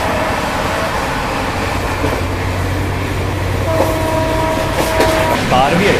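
The Rajdhani Express rumbles loudly and steadily along the rails near Chennai, heard from on board with a continuous roar, a faint horn note partway through and another train passing.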